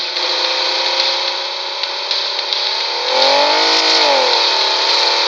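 Video game car engine revving steadily and loudly, running low on fuel, its pitch swelling and dipping near the end with no talk over it.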